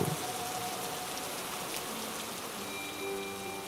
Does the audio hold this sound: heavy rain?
yes